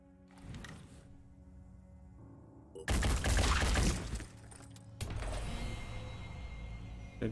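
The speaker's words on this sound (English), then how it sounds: "I'm not sure how big the explosion is." A grenade explosion in the tactical game Phoenix Point bursts out as a loud, broadband blast near the midpoint, followed by a second crash and lingering rumble, with quieter mechanical game sounds before it.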